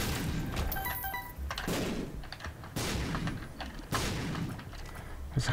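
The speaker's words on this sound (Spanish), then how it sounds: "Esas clases de explosiones" Bomb explosions in the video game Binding of Isaac: Afterbirth, several loud booming bursts a second or so apart, each with a sharp onset and decaying rumble, over busy game sounds.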